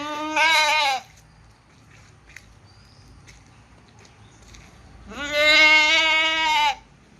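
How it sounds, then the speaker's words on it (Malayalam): Goats for sale bleat in two loud, drawn-out calls close by, one at the start and one near the end, separated by quiet with faint background noise. "ഈ കാണുന്ന ആടുകളൊക്കെ വിൽപ്പനക്കുള്ളതാണ് കേട്ടോ"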